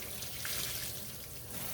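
Running water rinsing soapy handspun linen, a steady faint splashing stream like a tap filling a basin, continuous throughout with no speech.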